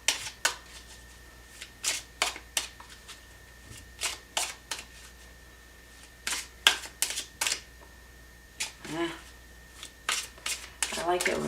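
Tarot cards being shuffled by hand, a series of short crisp riffling bursts with brief pauses, ending as a single card pops free; close and moderately loud, with no talk over it.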